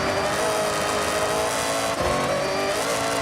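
A BMW M8 Competition in Forza Horizon 6 roars with a loud, sustained engine note at high revs, continuous and close with no talking.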